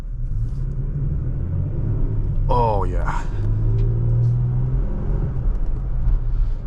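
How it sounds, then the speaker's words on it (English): Engine of a 2023 Toyota Tacoma TRD Off Road pickup truck, a steady low rumble from inside the cab, with a person speaking briefly over it. "That engine sound really reminds me of the 4Runner"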